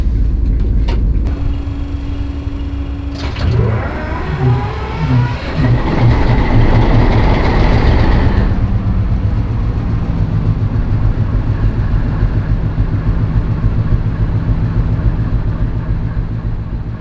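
A British Rail Class 58 diesel locomotive engine runs loudly close by in a cab at a diesel gala, with a clank and rising mechanical whine before it settles into a steady heavy throb.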